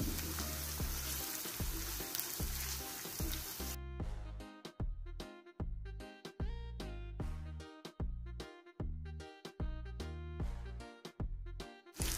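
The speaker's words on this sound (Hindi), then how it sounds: "अब हम इसमें मैरिनेट किया हुआ चिकन डाल देंगे" Marinated chicken frying in a pan, a dense steady sizzle for the first few seconds under background music, then only the music with its rhythmic beat remains.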